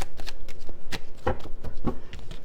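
Tarot cards being shuffled by hand during a reading, a quick run of crisp riffling slaps and soft card-on-card swishes, close and fairly loud with no talking.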